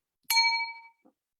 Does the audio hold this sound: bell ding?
yes